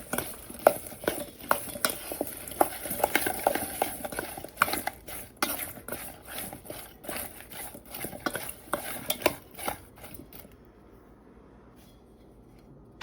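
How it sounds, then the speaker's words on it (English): A spoon stirring steak spice and Italian seasoning into a mixture in a bowl, a close series of irregular scraping clicks and taps for about ten seconds before falling quiet. "We'll give that a good stir."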